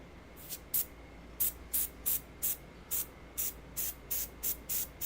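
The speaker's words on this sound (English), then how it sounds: "the key is low pressure and having the airbrush open really wide" An airbrush at low pressure, opened wide so it spits paint onto a feral ghoul miniature, lets out about a dozen short, soft hissing bursts in an uneven rhythm over a quiet background.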